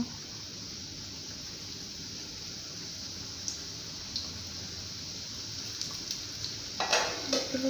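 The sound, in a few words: papdi being deep-fried in oil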